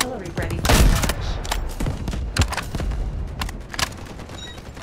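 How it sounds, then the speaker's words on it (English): An artillery barrage in the video game Delta Force pounds close and loud, with a rapid series of heavy booming impacts and crackling blasts in an uneven rhythm. "Artillery ready for launch."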